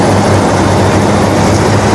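A Pakistan Railways locomotive hauling the 126 Down Lasani Express from Sialkot to Lahore, engine under throttle with a loud, steady rumbling roar that fills the whole moment without pause.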